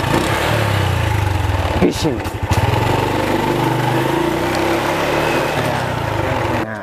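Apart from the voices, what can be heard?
motorcycle engine revving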